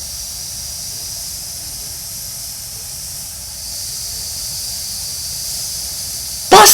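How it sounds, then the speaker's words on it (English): A steam engine hisses out steam in a continuous, fairly loud rush that holds steady throughout, then ends in a brief sharp burst at the very end. "She wheezed steam."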